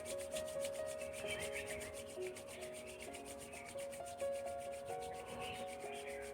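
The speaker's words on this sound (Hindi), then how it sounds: "हथेली को तेजी से रब करें।" Hands rub quickly together palm against palm, making a fast, even, rhythmic swishing friction that stays quiet and close under faint background music.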